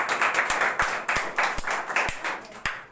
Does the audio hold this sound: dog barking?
no